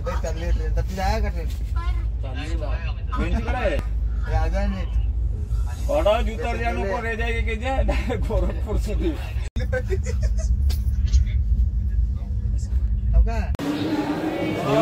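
A passenger train pulling out of the station on its way toward Bhusawal makes a steady low rumble that runs throughout, with people talking over it nearly the whole time.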